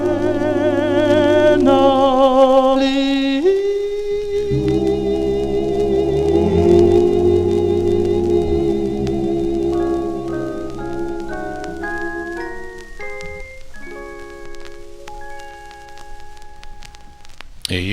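A 1954 doo-wop single plays loud and full throughout, with sustained vocal harmonies and backing music shifting between held chords and a stepping melodic line.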